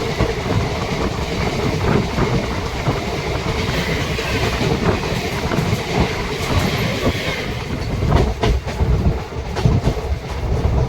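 Rampurhat–Howrah Sahid Express passenger train running on rails, a steady loud rumble with rhythmic clickety-clack of wheels over rail joints and a few sharper knocks, heard from on board with no talking.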